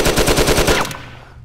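An Uzi submachine gun in Gun Club VR fires a short rapid burst of about eight evenly spaced shots, loud and close, then cuts off into a brief fading tail.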